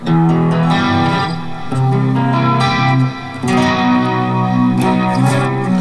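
Electric guitar, a Charvel So-Cal Custom through an Eleven Rack jangly stereo patch, strummed with a shimmering, chorus-like effect, bright and jangly, with slightly out-of-tune sustained chords that briefly dip and restart.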